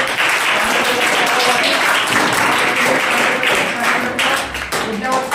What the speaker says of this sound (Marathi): त्या फायनल नेलेल्या सर्व पोरांबद्दल एकदा सर्वांनी जोरदार टाळ्या वाजवून त्या पोरांसाठी